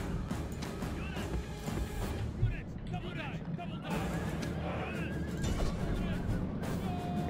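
Horses whinny and neigh repeatedly in a Rome Total War battle, with galloping hooves and clattering combat noise layered beneath a steady dense din; speech murmurs through the mix.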